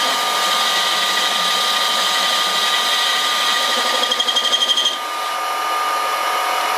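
A metal lathe bores out a spindle nose protector to just under 27 millimeters, giving a steady, loud high-pitched machining whine that runs throughout, with a brief rattling chatter near the end before the tone eases slightly.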